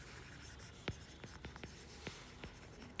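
Chalk or marker writing on a board during an irrigation engineering lesson on channel section design, heard as quiet, close scratchy strokes and taps in an irregular series, with no talking.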